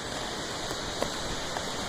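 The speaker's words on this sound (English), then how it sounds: "The rain is very wet." Rain pours steadily during Hurricane Florence in New Bern amid historic flooding, a dense, even hiss with a few sharper drips standing out, fairly quiet and without voices.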